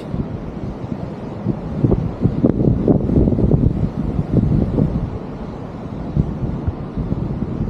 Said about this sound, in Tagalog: yung buhangin, tinatangay ng hangin